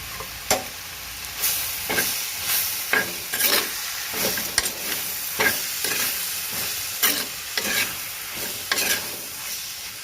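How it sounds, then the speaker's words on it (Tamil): Tomatoes sauté in a pan for a home-made bangada fish curry, giving a steady close sizzle with irregular stirring scrapes all the way through, with no talking. "தக்காளி நல்லா வதங்கட்டும்."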